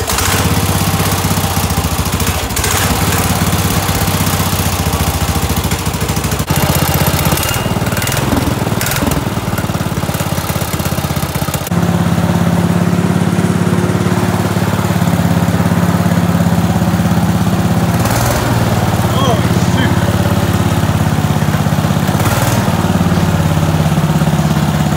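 A racing lawn mower engine runs continuously at night, a loud, close droning buzz that shifts pitch as it revs, growing heavier and louder partway through as it picks up speed.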